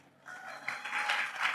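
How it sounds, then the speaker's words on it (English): Audience applause at a conversation event with authors Emma Donoghue and Chris Roulston, rising from quiet into a steady, moderately loud wash of clapping across a full room. "yes, round of applause"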